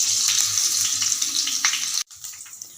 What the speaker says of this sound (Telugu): 1 టేబుల్ స్పూన్ ఆయిల్ వేసుకొని పచ్చిమిర్చిని ఫ్రై చేసుకోవాలి.